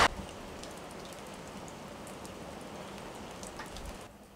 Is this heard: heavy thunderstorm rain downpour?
yes